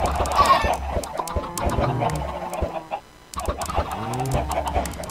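Chickens in a video game cluck and squawk repeatedly, several birds close together with busy, overlapping calls, a short lull near the middle, then more clucking.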